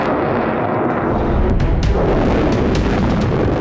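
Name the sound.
explosion in Beirut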